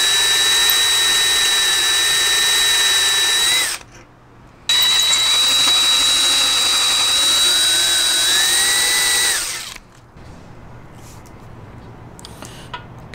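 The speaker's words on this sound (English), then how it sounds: "Let's get this drilled." Drill boring into a 2JZ engine oil pan, a loud, close, steady high-pitched whine that stops briefly after a few seconds, starts again with a pitch that sags as the bit bites, then cuts off, leaving quiet background.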